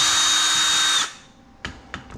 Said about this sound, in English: my drill to get them out, not using it to put them back together